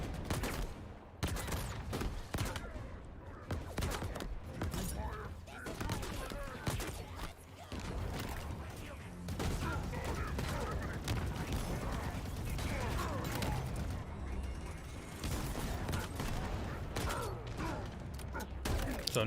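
Weapon fire from the video game Halo Infinite, a dense stretch of rapid shots and mechanical clatter packed together, loud and close, with gameplay sounds layered throughout.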